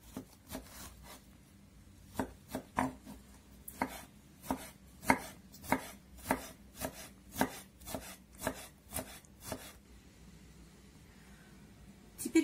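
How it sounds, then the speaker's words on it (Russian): A knife chops pickled cucumbers on a board, about a dozen sharp, evenly paced strikes close by, with no talking. "Огурчики просто порежу кубиками."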